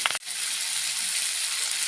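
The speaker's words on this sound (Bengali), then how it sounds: "মশলাগুলো অনেকটাই ভাজা ভাজা হয়ে গেছে" Spices sizzle steadily in hot oil in a pan for a fish curry, a loud, close, continuous hiss after a brief clatter at the start, with no talking.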